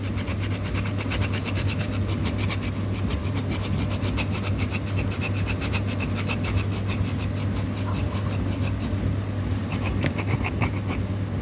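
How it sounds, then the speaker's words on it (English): Fresh whole nutmeg grated by hand over a pot of Jamaican cornmeal porridge made with coconut milk, giving a steady, close rasping scrape in quick repeated strokes over a constant low hum. "I'm grating my nutmeg in now"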